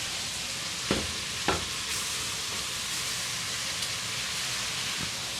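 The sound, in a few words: tomatoes cooking in a pan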